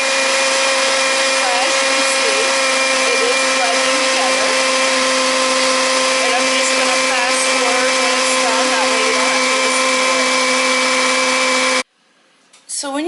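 A blender mixing German mini pancake batter runs loud and steady with a strong motor whine for about twelve seconds, then cuts off abruptly into near silence.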